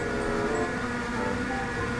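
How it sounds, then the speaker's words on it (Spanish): A car engine in the mobile battle-royale game Free Fire drones steadily as a vehicle approaches, a continuous mid-loud rumble with no speech. "Escuché un carro, era el mío."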